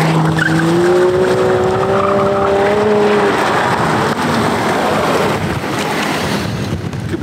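A Mercedes-AMG E 53 4MATIC+ Coupé lets out a loud, close tire squeal in drawn-out wavering tones as it tries to drift, while engine roar and wind noise carry on after the squeal fades.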